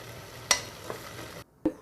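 Goat boti (tripe) simmers in a pan as its cooking water is reduced: a faint, steady sizzle broken by a few sharp clinks, as if from stirring.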